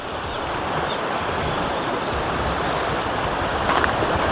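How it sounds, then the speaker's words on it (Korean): Strong, wind-driven sea waves break on Geumgap Beach on Jindo Island in South Korea, a dense, continuous roar of surf, loud and unbroken, with wind mixed in. "지금 바람하고 파도가 세서 해초들이 많이 떨밀려 왔다는 거"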